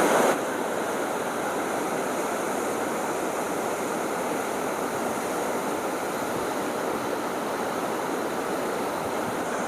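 The Ganga at Haridwar surging with water released through open dam gates, a dense, steady roar of rushing water with waves that continues unbroken throughout.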